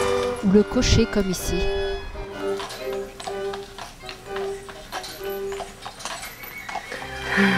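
Hooves clip-clop steadily as a horse pulls a carriage, with a whinny near the start and someone speaking French over the clatter.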